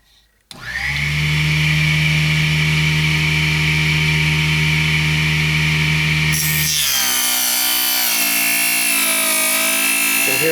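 A TruePower 4 inch table saw runs and cuts 1/4-inch poplar: a loud steady motor whine, then the pitch drops and the tone roughens as the blade bites and strains through the wood.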